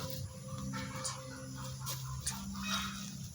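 A large duck bought for cooking gives a steady run of nasal fowl calls, moderately close, with no voices over them.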